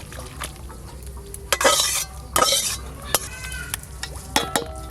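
Pangas fish curry cooked with bottle gourd greens being poured out of the pan, with a couple of bursts of scraping and sliding food between sharp metal clinks of a spoon, over a low background hum.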